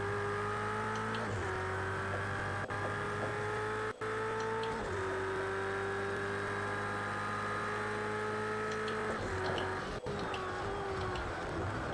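Ferrari 488 GT3 race car engine droning steadily at Silverstone in the Project Cars 2 racing game, a sustained loud tone with brief dips and shifts as the throttle lifts and gears change.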